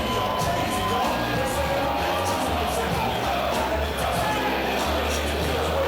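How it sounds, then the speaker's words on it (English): A wrestling crowd roars and cheers as The Phoenix Jody Fleisch makes his way to the ring, a loud, steady wall of massed voices with no let-up across the stretch. "The Phoenix Jody Fleisch makes his way to the ring to a loud roar from the crowd"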